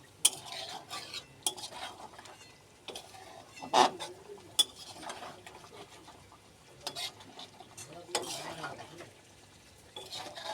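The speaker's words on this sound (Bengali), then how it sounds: "লোটে মাছটাকে একটু নাড়া দিয়ে নেব" A utensil stirs lote (Bombay duck) fish curry in a pot, with scattered scrapes and clinks of metal against the pan, uneven bursts and pauses, and a soft simmer beneath; no talk.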